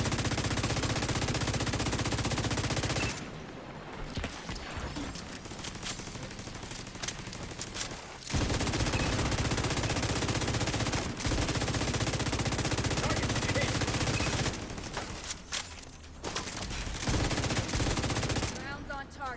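Sustained automatic gunfire in The Division shooter game, loud continuous bursts broken by a few short pauses, with rounds hammering steadily across the stretch.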